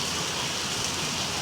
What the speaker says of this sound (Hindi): बहुत ज़ोरों की हवा भी है और बारिश भी है, मतलब बारिश ना ऐसे उड़ती जा रही है हवा के साथ ऐसी।